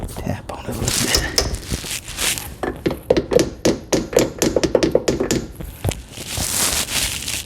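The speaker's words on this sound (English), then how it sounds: "So I'm going to continue to tap a little bit on it, ever so gently." A hammer gently taps a rear brake part on a Honda TRX 250 quad, giving a close run of light, quick metallic knocks in an uneven rhythm, with faint handling noise before and after.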